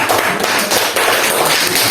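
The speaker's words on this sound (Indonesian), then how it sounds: "kembali tepuk tangan untuk kelompok" Applause from a classroom audience for a presenting student group, dense continuous clapping close by and fairly loud, with no talk over it.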